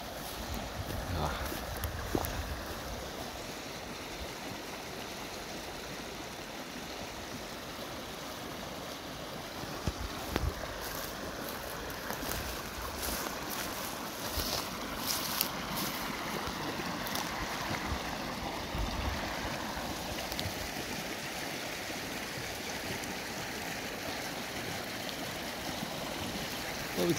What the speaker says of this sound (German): Ab hier vorne heißt der Bach dann Rüpingsbach.